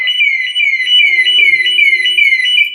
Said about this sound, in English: If the breaker is not closed, you'll get an alarm